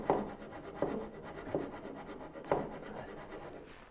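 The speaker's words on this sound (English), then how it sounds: "right now, just going to cross cut" A hand saw cross cutting wood while a Moxon vise is being made, with slow rasping back-and-forth strokes that come in periodic bursts, close and fairly quiet.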